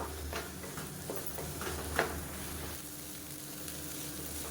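Radish and egg stir-fry is stirred in a pan, giving a low, steady sizzle with faint scraping touches and one slightly louder tap near the middle, fairly quiet and without voices.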